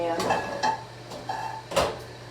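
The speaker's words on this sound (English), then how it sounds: "grab a small frying pan and put a splash of the Bragg's in there" A small frying pan is handled on a kitchen stove, giving several light metallic clanks and clatters at irregular intervals, close and moderately loud against a faint steady hum.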